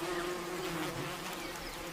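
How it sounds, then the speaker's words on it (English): Tiny Rhopalidia wasps beating their wings to fan the brood in their nest on a sweltering day, a steady, close, droning buzz that holds continuously without pause. "The adults beat their wings to fan the brood."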